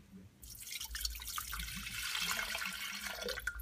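Water pours from a tap into the jug of a Breville One Touch tea maker holding loose tea, a faint but continuous splashing stream that starts after a brief quiet moment.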